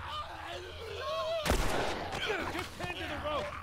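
Gunfire in The Last of Us, a single loud shot cutting through a busy scene of voices and shouting, with ambient game noise around it.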